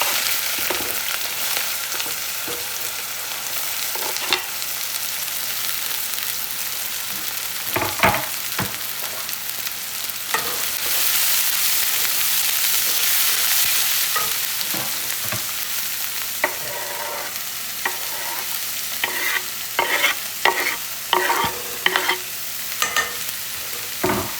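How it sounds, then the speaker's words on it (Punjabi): Cumin, green chili and onion frying in hot oil, a continuous close sizzle with scattered crackles and pops, growing busier with sharp spatters toward the end; no talking. "ਆਪਣਾ ਤੇਲ ਗਰਮ ਹੋ ਗਿਆ ਤੇ ਇਸ ਪਾਵਾਂਗੇ ਆਪਾਂ ਜ਼ੀਰਾ ਤੇ ਆਪਣੀ ਹਰੀ ਮਿਰਚ ਤੇ ਨਾਲ ਪਿਆਜ਼"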